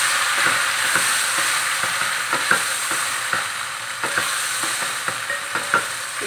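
Garlic-ginger paste being stirred into browned onions frying in a pan: a steady loud sizzle with repeated scraping stirs of the spoon at an irregular rhythm, with no voices.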